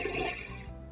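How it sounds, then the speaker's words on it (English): A Barbie Dreamhouse toy toilet plays a short electronic flush effect when its button is pressed, a brief close rushing-water whoosh that fades out within a second. "complete with sound and light effects when you press the button on the toilet"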